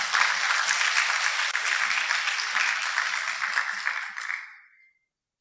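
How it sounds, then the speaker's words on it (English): An audience at a VietAI lecture event claps in sustained, dense applause that holds steady for several seconds before thinning out and fading away. "Maybe let's give them a round of applause."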